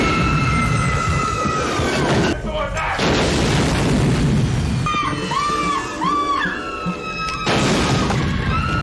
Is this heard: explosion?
yes